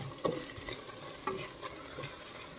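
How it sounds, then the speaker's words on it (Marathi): Ginger-garlic paste is stirred through frying onion in oil for chicken biryani, heard as a soft sizzle broken by a few scraping stir strokes at uneven intervals, fairly quiet, with no talking. "अद्रक लसूणची पेस्ट घालून घेतल्यावर छान मिक्स करून घ्यायचे।"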